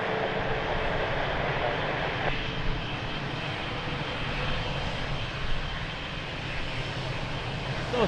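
A TAP Air Portugal airliner bound for Barcelona takes off at Lisbon Airport, its engines giving a continuous, fairly loud broadband roar that holds steady throughout, with no talking.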